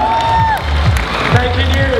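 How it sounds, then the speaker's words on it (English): An audience at a cosplay session at the EB Expo 2012 gaming event claps and cheers for a swordsman, a loud, continuous crowd roar with whoops and whistles. "Clap your hands for the swordsman!"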